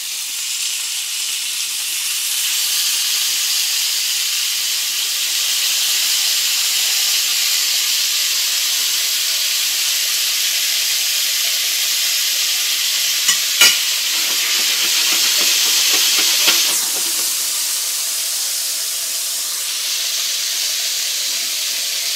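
Pork chops coated in sauce sizzle steadily in a frying pan, a continuous close hiss with faint stirring scrapes and a couple of brief sharp clicks midway, no talking.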